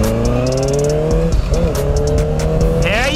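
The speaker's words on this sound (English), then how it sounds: "It has a Two Brothers exhaust, which is making a beautiful growl right now." Honda CBR 650R four-cylinder motorcycle with a Two Brothers exhaust growls close by on a ride, revs climbing in a smooth, rising howl before easing off, with wind rush underneath.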